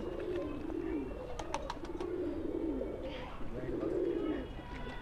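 Soft, repeated pigeon coos in a low rolling rhythm, three drawn-out phrases close by, with someone talking faintly in the background.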